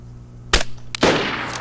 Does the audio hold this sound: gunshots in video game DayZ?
yes